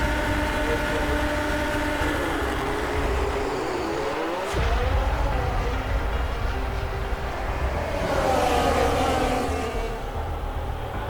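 Formula 1 race cars launching from the grid at the start of a race in an F1 26 video game, a dense, loud, sustained roar of many engines with rising whines, steady throughout and swelling again near the end.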